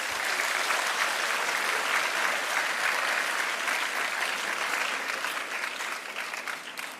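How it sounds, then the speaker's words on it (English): Sustained audience applause at a Gonzaga Day 2023 school event, a dense crowd of clapping hands holding steady for about seven seconds before easing slightly at the end. "let's give them a good clap"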